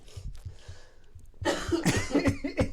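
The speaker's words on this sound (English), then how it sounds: "Cough, my friend, cough. Let it out." One person coughs hard in a run of harsh bursts, starting with a few faint throaty hacks and then breaking into louder, rougher coughing close to the microphone.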